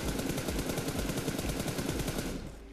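Rapid automatic gunfire from a rifle in a mobile shooter video game, a steady loud burst of evenly spaced shots that stops abruptly near the end, with nobody talking.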